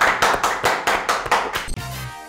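An audience applauds for Basri on a Turkish rap show, a short burst of rhythmic, fairly close clapping in even pulses, cut off abruptly at the end by a low hum.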